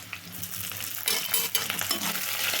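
Tempering spices, dried chillies and curry leaves, sizzle and crackle steadily in oil in a pan, growing a bit louder partway through, with small clinks and stirring noises and no voices.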